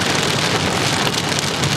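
Torrential rain pours down in a loud, dense, constant hiss of drops hammering surfaces close by, unbroken and with no voices over it.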